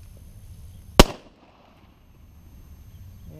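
A single sharp, loud unsuppressed pistol shot of Freedom Munitions HUSH .45 ACP ammunition cracks once outdoors and decays quickly into a quiet background.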